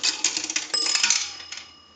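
A nickel drops into a three-slot 233G payphone, whose bell gives a single bright strike amid rattling coin noise, heard close and then ringing down.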